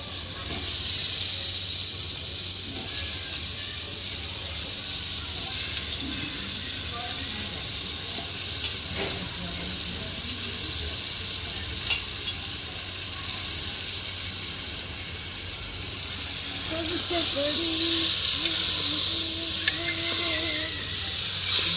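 Potatoes tipped into hot, oil-released tomato-puree masala in a pan, giving a steady continuous sizzle and hiss throughout that swells a little louder near the end, with faint kitchen clatter in the background.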